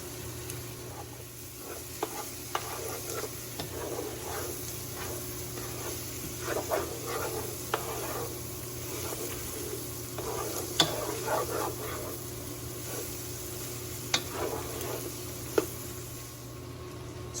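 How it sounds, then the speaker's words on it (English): Mushrooms with thyme and butter sizzle and cook down in a pan for vegan stroganoff, a steady quiet frying hiss broken by occasional stirring scrapes and light clicks of a utensil. "So we're gonna let the mushrooms continue cooking down."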